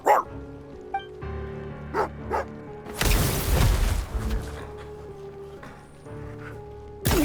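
A dog barks several times in Genshin Impact, sharp close yips spaced across a quiet scene with a musical background, interrupted by a burst of loud rumbling noise partway through.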